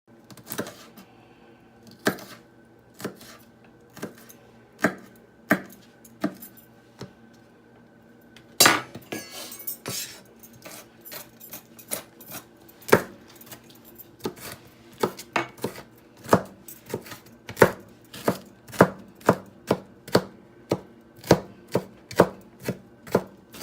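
Roasted red pepper is diced finely with a knife on a board, a series of crisp, close taps starting slowly and speeding into a quick rhythmic chop.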